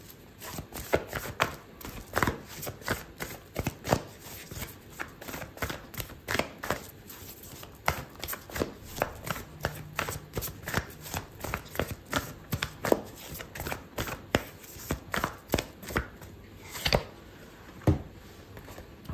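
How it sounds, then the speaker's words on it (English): Oracle cards are shuffled in the hands during a tarot reading, producing a long run of quick, close riffling snaps and flicks that keep an uneven but continuous rhythm. "I'm going to pull out an oracle card for you"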